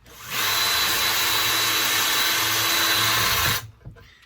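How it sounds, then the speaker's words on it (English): A power drill whines loudly and steadily for about three seconds as it bores through wood on a small dollhouse build, then cuts off abruptly, leaving faint handling noise. "Drill from the side here, make sure I get right through it."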